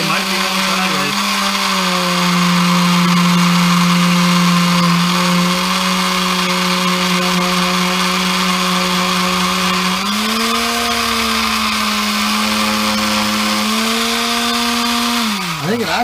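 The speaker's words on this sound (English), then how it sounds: "I'm going to have to sand it to see where the grain is." Power sander working on an old Gränsfors Bruk cruiser axe head to expose the wood grain, a loud steady motor whine running nearly continuously with small pitch shifts as pressure changes.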